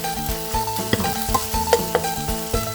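Minced pork is stir-fried with seasonings in a pan, making a loud, bright sizzle close up with repeated scraping and tapping strokes of a spatula, and nobody speaks.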